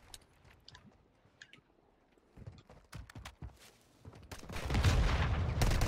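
Gunfire in a video game: scattered single shots and short bursts, mostly faint and distant, then building into louder, dense firing near the end.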